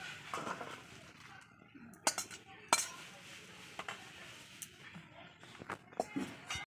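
A metal pot of puti fish curry is lifted off a kitchen stove, giving a few sharp clinks and scrapes of cookware against the burner among quieter handling noises, with a person talking softly in between.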